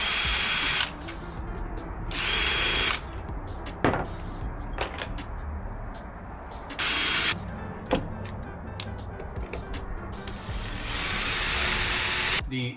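A power drill bores holes in aluminum mounts for a camper van awning, several loud bursts of whirring with quiet gaps and sharp clicks between them, close up and with no speech.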